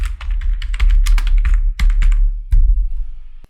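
Computer keys are typed in a quick, irregular burst of clicks and taps, close and fairly loud, with a few short pauses between keystrokes.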